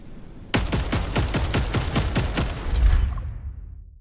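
Rapid burst of about a dozen gunshots in a video game, loud and evenly spaced, ending in a fading echo.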